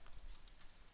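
Light, quick taps on a computer keyboard as list items are entered while coding in Python, a steady run of soft close clicks with no talking.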